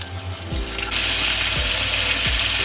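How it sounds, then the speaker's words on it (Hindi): Marinated mutton pieces drop into hot oil for an Afghani mutton karahi, setting off a sudden loud, dense sizzle that stays up close and constant, with a few soft thuds as more pieces go in. "जब ऑयल गर्म हो जाए तो इस मैरिनेटेड जो है ये मटन उसको निकाल कर बोटी को इसके अंदर फ्राई कर लें"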